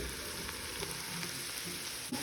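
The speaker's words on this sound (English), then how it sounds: "let it fry until the veggies are soft and nice" Vegetables and mushrooms frying in a pan, a steady dense hiss of sizzling oil with a few faint stirring clicks, close and continuous with no talking.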